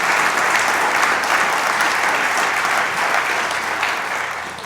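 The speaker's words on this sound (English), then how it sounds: "Can we please give them a round of applause for making this weekend a great success?" Audience applause at a Cornell College homecoming convocation for reunion volunteers and alumni engagement staff: dense, steady clapping from a large crowd that holds level throughout and eases off slightly at the end.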